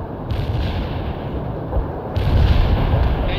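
Sustained gunfire and artillery rumble in the World in Conflict war game, a dense, steady barrage that swells louder partway through, with no voices.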